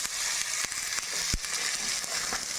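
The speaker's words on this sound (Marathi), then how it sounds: "चणे फ्राय होत आहे" Chickpeas fry in a pan with curry leaves, garlic, cumin, chili and salt, giving a steady close sizzle broken by a few sharp pops and scrapes.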